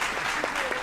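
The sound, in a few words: audience applause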